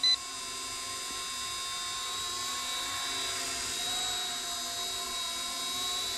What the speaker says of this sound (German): Zwei Hubschrauber hier schweben dann noch.